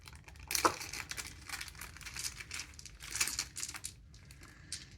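Plastic wrapping around red, blue and green alien dice from the ISS Vanguard board game crinkles in close, quiet bursts, with sharper rustles near the start and again midway.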